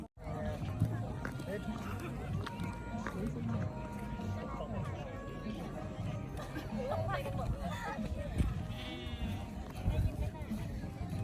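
Sheep on Doi Chang in Chiang Rai, herded by a sheepdog, bleat at intervals amid a busy crowd's murmur and voices, the calls mid-distance and partly masked by steady chatter.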